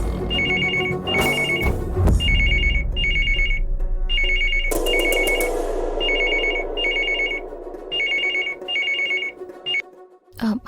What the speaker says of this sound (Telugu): ల్యాండ్లైన్కి కాల్ చేద్దాం.